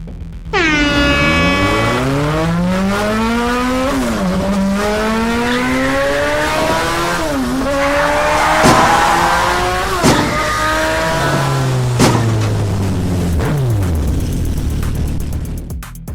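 Race cars at the start of a heat in a racing tournament, engines revving loudly and climbing in pitch together, with gear-change dips and a long, steady roar as they pull away, alone without talk.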